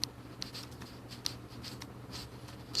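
A pen writing in a school notebook, making faint, close scratching strokes with a few light taps, heard alone in a quiet room.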